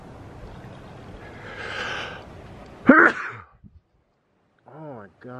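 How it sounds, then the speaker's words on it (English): One sharp, loud sneeze from a person in a home kitchen, preceded by a faint breathy build-up and followed by a quiet pause, then brief talk resumes. "Oh my gosh, with the sneezing."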